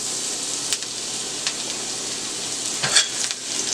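Garlic hits a hot pan and sizzles in a steady close hiss, with a few sharp utensil clicks and scrapes, the loudest near the end.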